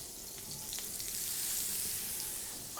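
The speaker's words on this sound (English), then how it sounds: "So you can hear it cooking, it's starting to fry." Steady, crackling sizzle of a burger patty frying in a hot pan, close and continuous with bright hissing and occasional pops.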